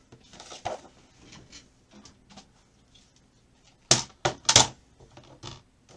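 A paper cutter trims scored cardstock for a handmade mini album: soft handling rustles, then a quick cluster of sharp, close scraping clicks as the blade slides through.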